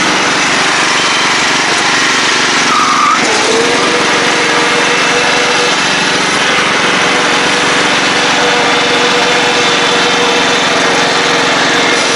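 Craftsman LT 1000 lawn tractor with an aftermarket exhaust running on a ride, a loud, steady, buzzing engine drone that holds continuously, with slight shifts in pitch and no talking.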